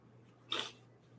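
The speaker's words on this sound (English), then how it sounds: "I got to sneeze." A single sharp human sneeze bursts out close by and fairly loud, lasting about half a second against a quiet indoor background with faint hum.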